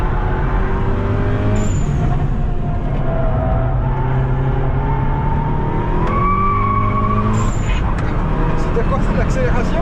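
Race car tires squeal on a track with little grip, long tonal screeches rising and falling over a loud steady engine roar throughout, with voices talking over it.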